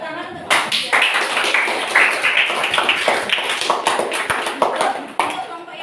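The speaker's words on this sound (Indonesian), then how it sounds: "Beri tepuk tangan untuk" A classroom group applauds together, steady rapid clapping from many hands sustained for several seconds, close and lively.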